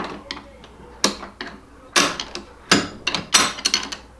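A Quaife sequential transmission for a Civic being assembled on the bench gives a series of sharp, close metallic clicks and clunks as the gears snap into place, irregularly spaced, with several louder pops.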